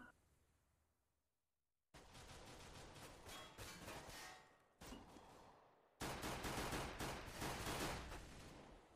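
Bursts of gunfire in a Counter-Strike match, with shots fired through walls. Silence comes first, then dense rapid volleys in two main bursts, loud and close and without talk.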